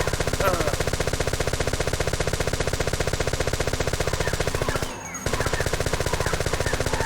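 Rapid automatic gunfire in Final Fantasy VII New Threat rattles in an even, unbroken rhythm of fast shots, close and loud, stopping briefly for a split second before the same steady stream picks up again.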